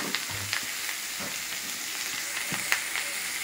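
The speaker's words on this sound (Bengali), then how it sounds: "আলু একটু নাড়িয়ে নিয়ে তারপরে কলা আলু দিয়ে দিলে ওর মধ্যে" Potatoes and green banana sizzle in an oiled pan for a village-style Bengali curry, a continuous close hiss broken by several soft scrapes as they are stirred.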